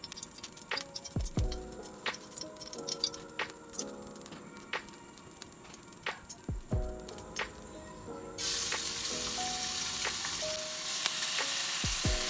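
Marinated pork for buta shogayaki fries in hot oil. The sizzle runs under stirring, with sharp clacks and scrapes of utensils, then swells into a louder, continuous hiss toward the end.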